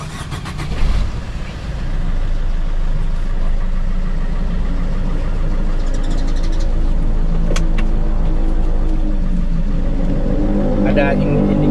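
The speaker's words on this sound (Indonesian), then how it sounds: "kita lanjutin aja untuk ngidupin ini mobil" A 2017 Suzuki Ertiga diesel hybrid engine cranks briefly, catches, then settles into a steady, loud idle that drones on close by for the rest of the clip.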